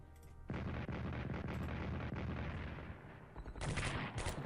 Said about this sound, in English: Some strange defensive artillery.